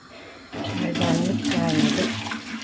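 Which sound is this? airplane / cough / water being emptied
water being emptied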